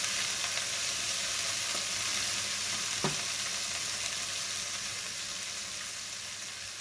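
Meat browning in a pan for a ragoût sizzles in a steady, even hiss throughout, with one brief clack of a utensil partway through.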